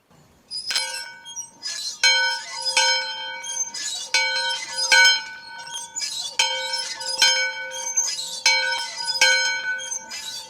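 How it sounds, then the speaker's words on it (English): A bell rung over and over to start class, struck in a steady, fairly quick rhythm, each bright metallic clang ringing briefly into the next, loud and close with no talking. "let me go ring the bell"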